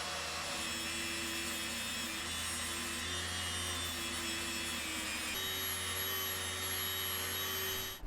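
An electric file clamped in a vise grinds away at wooden chess pieces, a loud, continuous buzzing whine with a steady motor hum that shifts pitch slightly partway through, running without pause and ending abruptly.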